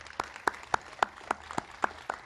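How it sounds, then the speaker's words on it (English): Sparse handclaps for a library truck team at a public library reopening press conference, about nine distinct claps in an even rhythm, fairly quiet and a little distant, with no talking. "Let's give them some applause"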